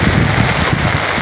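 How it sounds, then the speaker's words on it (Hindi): Heavy rain falls on the seashore beside moored boats, a loud, dense, unbroken roar mixed with wind buffeting close to the microphone. "काफ़ी तेज़ बारिश शुरू हो गई है"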